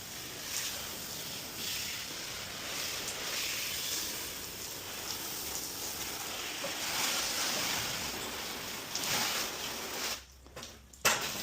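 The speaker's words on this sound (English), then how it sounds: "Rinse it off." Water sprays from a hose onto a car during a maintenance wash, rinsing from top to bottom, a steady soft hiss that runs continuously before cutting out and sputtering near the end.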